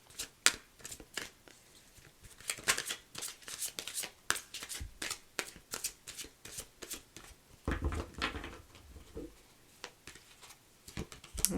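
Tarot cards are shuffled close up in rapid, crisp riffling bursts that repeat throughout, with short pauses between runs.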